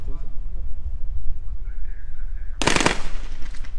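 Gendarmerie marksmen fire live rounds at a balloon target outdoors. A single sharp, loud burst of gunfire cracks out near the end after a stretch of spoken commentary and background rumble.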